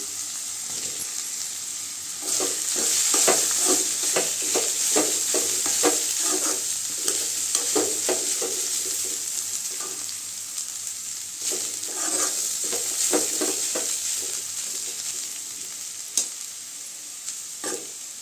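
Chow chow poriyal being stir-fried with grated coconut, a close, steady sizzle broken by repeated spatula scrapes and stirring clatter at an irregular rhythm, with no voices.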